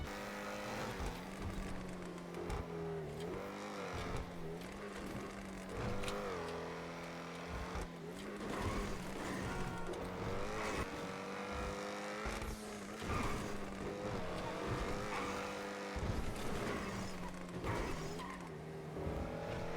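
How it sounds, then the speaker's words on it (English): An Ocelot XA-21 sports car engine in GTA Online roars continuously, revving up and down with rising and falling pitch, loud and close, with occasional tire squeal and no talking. "It literally is probably the best sounding car in the game"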